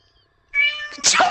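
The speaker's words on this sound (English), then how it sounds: "Y'all heard a cat in the background." A house cat gives a clear, close meow, followed at once by a second, rougher cry.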